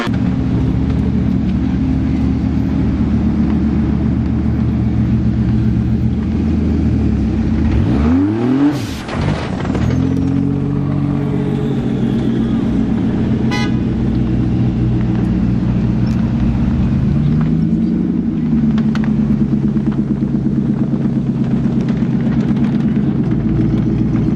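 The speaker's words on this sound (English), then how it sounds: "5 litre V8, absolutely mighty." A mighty 5-litre V8 car accelerates hard at the Festival of Speed, a loud roaring engine climbing through the revs, dipping briefly mid-run, then rising again with a deep sustained growl.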